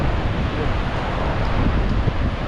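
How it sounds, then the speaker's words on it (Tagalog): Large ocean waves break on the shore near Pamasagan, a steady, loud roar of surf mixed with wind buffeting the microphone, continuous throughout. "lalaki ng alon"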